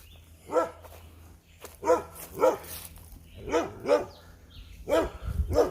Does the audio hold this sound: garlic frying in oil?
no